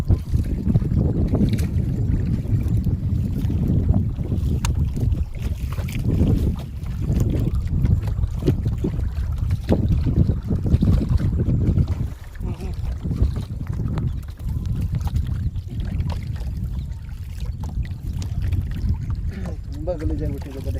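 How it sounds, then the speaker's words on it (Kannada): Strong wind blowing across a lake during a fishing boat ride, a loud, steady low rumble buffeting the microphone throughout, easing slightly for a moment midway before picking up again. "ಗಾಳಿ ಜಾಸ್ತಿ ಆಯಿತು."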